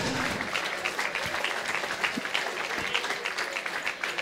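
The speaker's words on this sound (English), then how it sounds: "I want to everybody here to give Declan, Claire and Natasha a big round of applause." A crowd gives a sustained round of applause at a celebration honouring the Sheridan family at a GAA-linked local venue, dense steady clapping filling the room from start to finish.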